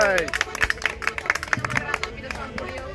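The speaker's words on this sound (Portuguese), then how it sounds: "Oh, palmas!" An audience at a folk music event with concertina playing breaks into quick, uneven handclaps, close and lively, mixed with a murmur of voices and a faint ringing tone underneath.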